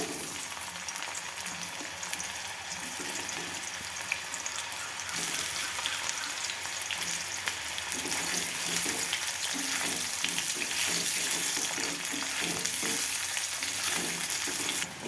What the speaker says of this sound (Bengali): এরপর আমি কাঁচকলাটা ভেজে নেবো